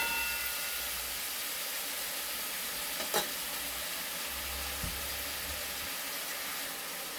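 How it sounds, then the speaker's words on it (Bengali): Steady, loud sizzling hiss of pumpkin greens and vegetables frying in a pan with salt and turmeric, with one sharp stirring scrape near the middle and a softer knock later. No one talks. "একটু ভালো করে ভাজা হোক সবজিটা পুরোটা।"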